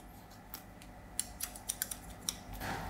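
Scissors snip through hair during a haircut, framing the face: a series of quick, crisp cuts in irregular bursts, close and fairly quiet over a soft room background.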